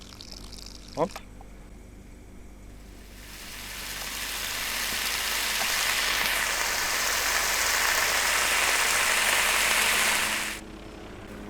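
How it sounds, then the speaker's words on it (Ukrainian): Cooking oil poured into a pan in the VR Cooking Simulator game makes a steady, bright hiss for about seven seconds, then stops abruptly. A short spoken word comes just before it. "Наливаємо масло."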